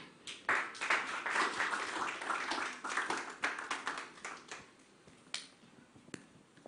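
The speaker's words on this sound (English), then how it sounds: "give a round of applause once again to the General" Audience applause at a book launch for a business book: a room of people clapping steadily and densely for several seconds, then thinning out into scattered claps near the end.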